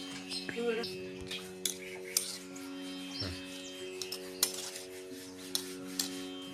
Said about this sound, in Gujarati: ખાંડની ચાસણીમાંથી આમળા આ રીતથી કાઢી લઈશું